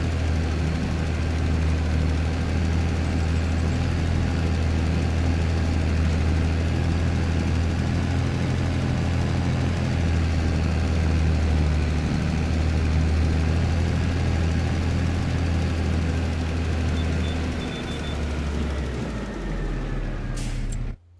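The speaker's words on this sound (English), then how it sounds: "let's jump over to the other tractor" A tractor engine idles in a farming video game, a steady low diesel rumble that drones evenly for about twenty seconds before cutting off abruptly, with no talk.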